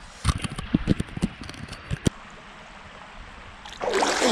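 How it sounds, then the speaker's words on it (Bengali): Splashing and playing in cold, waist-deep river water among the stones at Bholaganj Sada Pathor, with a run of sharp, close splashes followed by a softer, steady rush of flowing water. "Just playing with water."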